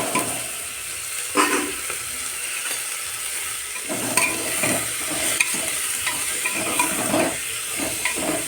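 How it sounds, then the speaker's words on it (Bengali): Vegetables sizzle and fry in oil inside a pressure cooker while being stirred, a steady crackling hiss broken by repeated spatula scrapes and clinks, close and moderately loud with no speech. "সবজিগুলো একটু ভেজে নেব"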